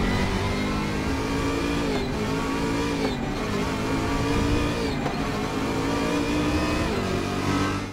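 A BMW race car in the racing game Raceroom, losing power mid-race: a steady, loud engine drone with faint shifting tones that barely changes pitch, playing alone without talk.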